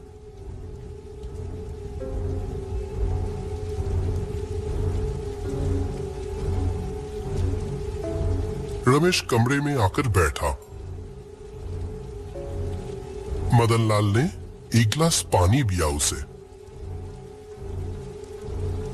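Steady rain falls continuously at night beneath a calm narrating voice, with a low constant hum and a few brief sweeping tonal effects breaking through.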